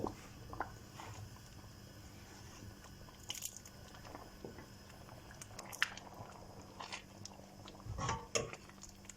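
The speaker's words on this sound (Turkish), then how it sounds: "Tekrardan karıştırıyorum" Quiet, wet squelching and soft scraping as a spoon works through a thick tomato sauce in a pot, with occasional light clinks.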